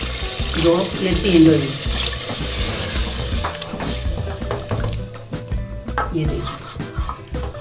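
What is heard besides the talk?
half cup of water poured into sizzling mutton korma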